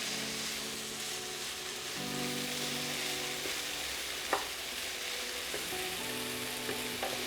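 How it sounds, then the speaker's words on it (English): Green peppers, celery and onions sauté in a pan with a steady, close sizzle, broken by a few sharp clicks and taps of a utensil against the pan. "we're gonna saute this for about 5 minutes until our veggies are softened"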